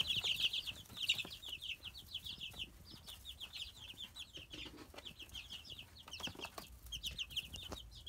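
Baby chicks cluck and peep busily while rushing to feed, with occasional wing flaps and scuffling close by; the chatter is continuous, with no talking.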